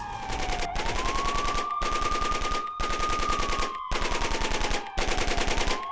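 A Ukrainian BMP-2 armored vehicle fires rapidly in war footage, sustained bursts of automatic gunfire broken by short pauses, with a wailing siren-like tone gliding over the shots.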